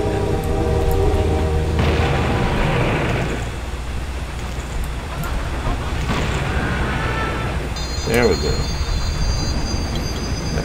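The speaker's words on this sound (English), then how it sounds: "Looks like my train is coming in." A train pulls into a station in the video game Blood Fresh Supply, a steady low rumble with a horn-like tone near the end, heard under brief speech and game sounds.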